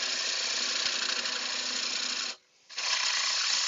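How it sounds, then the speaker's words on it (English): Wood lathe spinning a bowl while a gouge cleans out the inside, giving a loud, steady scraping whir that cuts out briefly and then resumes. "I'm just going to get this cleaned out a little bit with a different gouge."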